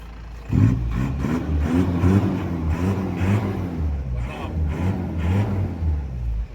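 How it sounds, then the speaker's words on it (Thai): A used car's engine cranks and catches, then runs at a steady, close, throaty idle with slight rises in revs, no voices over it. "นะครับสตาร์ท รถสตาร์ทได้เลยครับผม"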